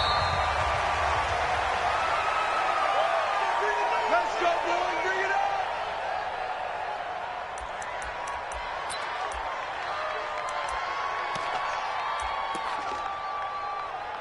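Stadium crowd in an NFL video game before the Buffalo Bills meet the Minnesota Vikings, a broad, steady roar of cheering with scattered claps and whoops, while a commentator talks over it.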